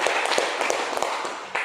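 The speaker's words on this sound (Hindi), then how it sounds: "सर के लिए एक बार जोरदार तालियां" An audience at a Modicare meeting in Barmer, Rajasthan, claps loudly and continuously, a dense patter of hand claps filling the room for a short burst.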